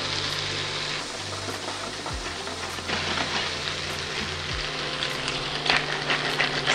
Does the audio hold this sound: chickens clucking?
no